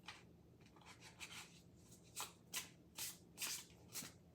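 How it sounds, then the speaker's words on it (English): A deck of Pri8m tarot cards on medium cardstock is riffled and shuffled by hand, giving a series of soft, close papery swishes and flutters that grow louder toward the end. "They shuffle very nicely."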